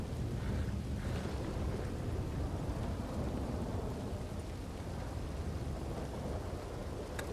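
Rain falls in the Red Dead Online game, a constant wide hiss with low rumbling thunder and a bit of wind beneath, steady throughout and free of speech.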